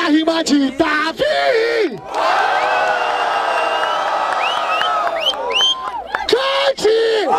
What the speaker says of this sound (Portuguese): Barulho para a rima de Davi